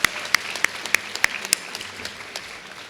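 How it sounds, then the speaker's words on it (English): A handful of sharp, scattered claps ring out at a high school graduation ceremony, spaced irregularly and thinning to faint patters near the end. "Let's give them a round of applause."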